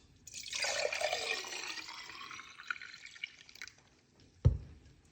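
Carrot juice poured from a container, a smooth liquid splash that swells and then thins out over a few seconds, ending with a single close knock.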